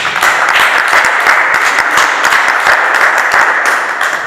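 Guests at a Rwandan wedding clap together in sustained, dense applause, close and loud, with no let-up through the whole stretch and no voices standing out.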